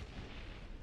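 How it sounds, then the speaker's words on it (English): A deep, rumbling blast from an anime episode fills the short moment, loud and sustained with a heavy low-end boom throughout. "Just big explosion."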